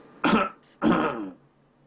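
A voice imitates a cough: two short, harsh throaty bursts close to the mic, separated by a brief pause.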